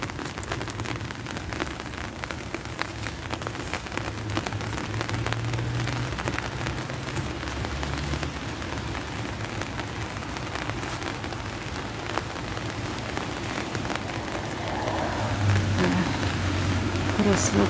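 Steady rain falls and patters on surfaces outdoors, a continuous dense hiss with low rumbling underneath throughout, and a voice speaking faintly beneath it.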